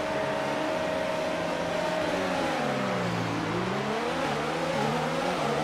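F1 cars in F1 2019 rev and accelerate off the grid at the race start in Canada, a loud continuous engine whine that holds steady, dips, then climbs again, with no talk.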